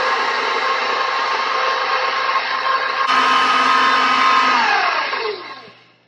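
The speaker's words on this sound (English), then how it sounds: "And we'll give that a stir." A stand mixer whirs steadily while bread batter is stirred in a bowl, the motor tone stepping up partway through and then winding down to a stop at the end, loud and close with no talking.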